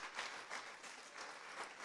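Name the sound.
church congregation applause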